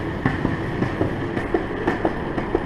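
Loose board rolling along with a steady clickety-clack rhythm of small knocks over a continuous rumbling roll, moderately loud and close, with no talking.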